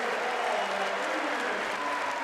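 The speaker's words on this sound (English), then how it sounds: "The crowd explodes." A college wrestling crowd at an Ohio State match cheers and applauds after a pin, a dense, loud, sustained roar of clapping and voices.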